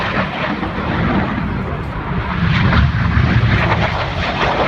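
Red Arrows display jets roar overhead at an RAF Scampton air show, a loud, continuous engine rumble and whine that swells steadily as the synchro pair passes, with faint crowd or commentary noise underneath.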